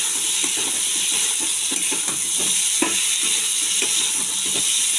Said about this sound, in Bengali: এবার সেদ্ধ আলুটা দিয়ে আর একটু নাড়িয়ে দিয়ে জল দিয়ে দেবো